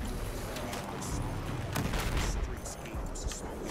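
Battlefield 4 gunfire crackles as scattered shots and dull booms within a dense, busy game mix, fairly faint, with a voice speaking over part of it.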